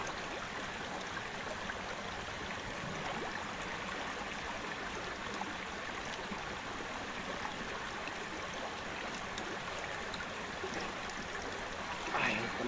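Natural hot spring water flows steadily in an outdoor bathing spot, a constant close rushing wash that carries on without a break throughout.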